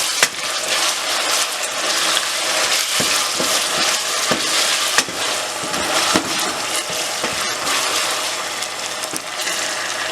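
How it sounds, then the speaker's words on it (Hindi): Browned onions fry with ginger, garlic, cinnamon and cloves for a chicken and chickpea curry, a loud, constant sizzle over the pot with frequent scraping stirs and clatter as the mixture is turned. "हम इसके अंदर जो है अदरक, लहसुन, दालचीनी, लौंग और ये चीज़ इसमें शामिल करके दोबारा से इसको थोड़ा सा मिक्स कर रहे हैं"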